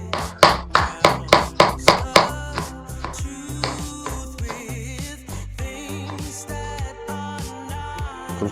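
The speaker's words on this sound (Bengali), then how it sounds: "বাকি চাউমিনটা এভাবে করে স্লাইস কেটে নেবেন।" Knife slicing through cooked chow mein noodles on a board, a series of about eight sharp rhythmic chops followed by softer irregular cutting and handling sounds, all close up.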